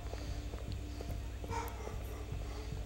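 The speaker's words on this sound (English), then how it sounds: "I'm sure you can hear my dogs" Dogs barking in a room during play of Uncharted 3: Drake's Deception, a few short barks standing out over steady low game sound, with faint thuds and footsteps in the background.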